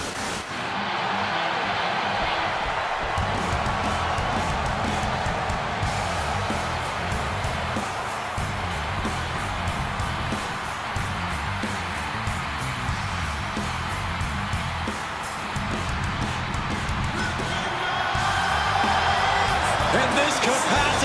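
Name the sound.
crowd cheering in WWE 2K26 video game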